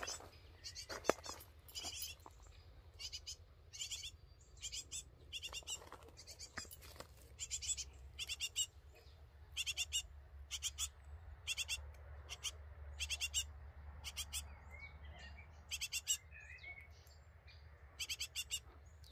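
Baby birds in a garden nest give rapid, repeated high chirps in short bursts throughout, faint and close with a low background hum, and no talking.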